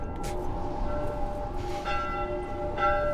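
Church bell in The Last of Us tolling repeatedly, each strike leaving a long ringing hum over a steady rumbling background.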